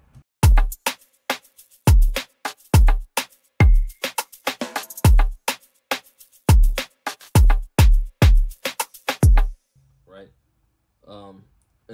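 Afrobeat drum pattern with a hi-hat added, punchy kicks and crisp ticking hits in a bouncy loop, loud and upfront, then breaking off into brief quiet sounds at the end.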